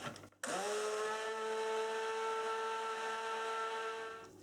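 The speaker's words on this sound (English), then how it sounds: "Just repeating exactly the same process of giving it a nice stir and then a quick whiz with the stick blender" A stick blender whirs into a steady, high, whining drone close by as it mixes cold process soap batter coloured with activated charcoal, running continuously for several seconds before easing off.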